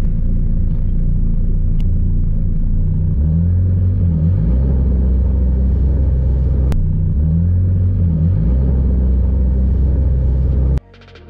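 Engine of a Sea-Doo personal watercraft with a lean hesitation and bogging condition, a loud steady droning rumble that rises and falls in pitch through repeated throttle surges, then cuts off abruptly near the end.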